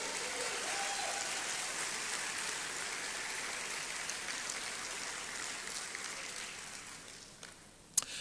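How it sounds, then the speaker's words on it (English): Applause from a large crowd at a citizenship ceremony in Ghana rolls on as a steady wash of clapping, dense and even from the start, slowly fading toward the end. "Please do a big round of applause for her."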